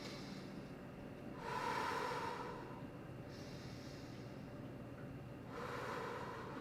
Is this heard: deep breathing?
yes